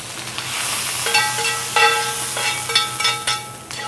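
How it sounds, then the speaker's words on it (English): Celery stir-fries in a hot pan for a tofu veggie curry, sizzling steadily up close with repeated metallic clinks and scrapes of a utensil against the pan. "That's stir-fried celery."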